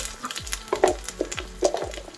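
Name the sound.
tempering spices spluttering in hot oil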